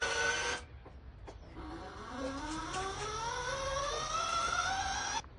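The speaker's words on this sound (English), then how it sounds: "press the wire inch button. And then that will feed through." A Cigweld Blue Venom welder feeding wire through its torch on the inch button, the drive motor giving a close, continuous whine that glides upward in pitch for several seconds before cutting off.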